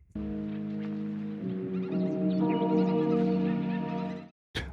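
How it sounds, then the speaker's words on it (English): Twisted, glitching digital bird-like chirps and honks in a song, sustained and layered over droning tones before cutting off abruptly. "digital, weird, glitching animal noises"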